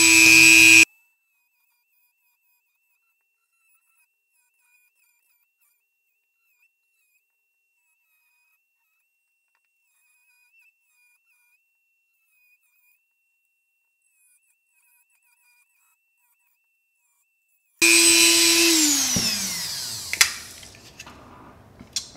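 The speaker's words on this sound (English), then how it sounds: "I like to use just a simple Dremel tool with a cutoff wheel and just go all the way around" A Dremel rotary tool fitted with a cutoff wheel whines loudly at a steady high pitch while cutting around a DIY camera lamp part, heard in one brief burst and then again near the end as the motor winds down.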